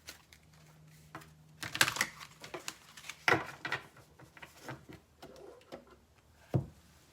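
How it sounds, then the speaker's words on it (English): Tarot archetype cards being shuffled in a quiet room, a run of soft papery riffles and taps with a few sharper snaps, close and fairly quiet, no voices. "I'm going to shuffle one more time."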